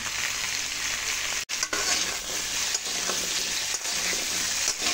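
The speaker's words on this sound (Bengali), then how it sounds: "আলুটা ভালো করে ভেজে নেব" Potatoes fry in hot oil in a pan with salt and turmeric, giving a dense, continuous sizzle close by, with a few brief dips and faint stirring scrapes.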